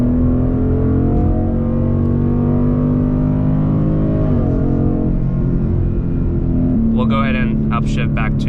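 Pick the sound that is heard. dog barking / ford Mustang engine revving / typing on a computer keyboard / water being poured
ford Mustang engine revving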